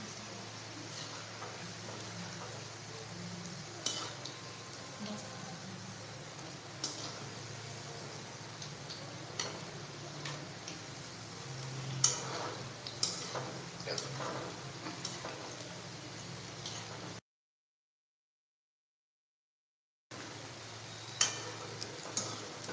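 Onion bhaji fritters crackling in hot oil in a kadhai, a soft continuous sizzle broken by sharp ticks and spatters, with a short silent gap near the end and no speech.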